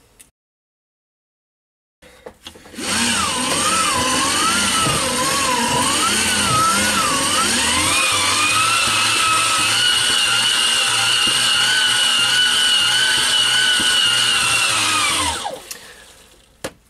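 Old military hand-crank generator being turned: a loud, steady mechanical whine that wavers in pitch at first, then rises and holds a constant tone before winding down after about twelve seconds.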